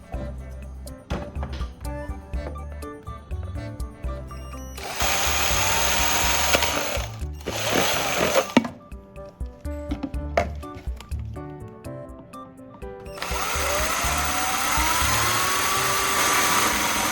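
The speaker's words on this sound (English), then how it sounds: "Drill a hole in the center that fits the bolt snugly." A power drill bores a hole through the center of a container, with bursts of high whirring that stop and start between stretches of clattering handling noise.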